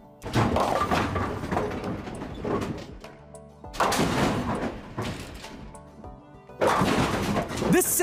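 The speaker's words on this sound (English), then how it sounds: "This sound is a bowling ball crashing into pins." Three loud crashing bursts, each a heavy rolling impact followed by a clatter of scattered collisions, separated by short quieter gaps.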